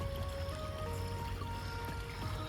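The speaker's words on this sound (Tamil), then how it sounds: "அந்த குளத்துலேருந்து வர தண்ணி தாங்க இது பூராமே." Water from a pond runs through rice paddies in Pollachi as a steady, low, continuous trickle and rush, close by and unbroken, with no voices.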